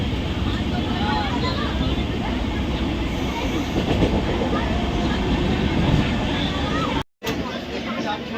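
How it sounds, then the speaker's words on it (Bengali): Inside the Howrah–Puri superfast express at Bhubaneswar, a loud continuous rumble of the train fills the scene with rail clatter, broken briefly by a sharp cut, while a voice talks over it. "ট্রেন এখন দেখুন ভুবনেশ্বর চলে এসছে ট্রেন দাঁড়িয়ে রয়েছে"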